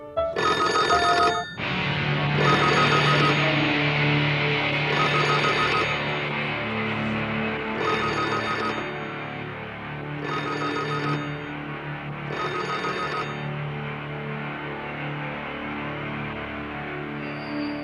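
A telephone rings in repeated bursts of bright electronic trilling, about six rings evenly spaced over a low background hum, fairly loud and with no talking.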